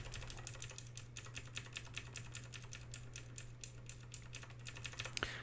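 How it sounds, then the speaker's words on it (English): Clicky switches on a Razer BlackWidow mechanical keyboard are typed on in a rapid, even run of crisp keystrokes, close and distinct over a low steady hum, with a sharper final strike. "and these are the clicky keys."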